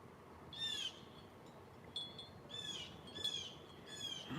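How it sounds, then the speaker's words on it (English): Outdoor birds give repeated high, sweeping calls in several bursts, fairly close against a soft steady background with no talk. "I hear some birds."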